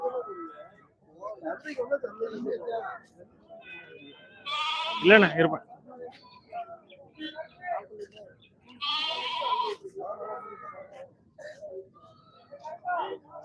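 Sheep bleat loudly several times, wavering calls up close, mixed with people talking nearby at a Saturday goat and sheep market in Ettayapuram, Thoothukudi district.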